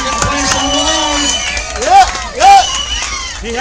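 A crowd cheers and shouts encouragement at a pizza eating contest: a steady roar of voices with two sharp, loud whoops rising out of it midway.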